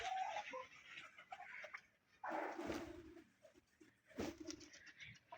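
Pigeons feeding in a group, with low soft cooing and bird calls mixed among scattered pecking and fluttering noises, fairly close and moderately quiet, with brief louder bursts of flapping.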